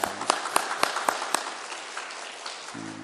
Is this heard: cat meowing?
no